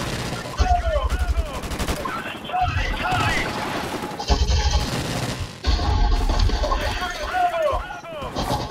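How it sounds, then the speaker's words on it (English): Rapid bursts of gunfire from a first-person shooter video game, including shotgun blasts, crackle in repeated volleys while a player talks over the action. "So he just shot me with a shotgun in the middle of while I'm shooting."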